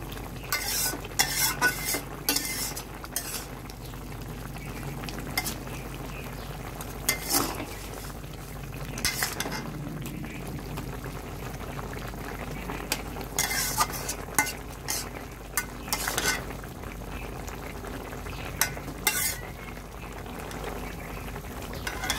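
Spices being stirred into a pot of fish curry with Malabar spinach, with repeated spoon scrapes and clinks against the pot over a soft bubbling simmer, sharp bursts coming in irregular clusters throughout.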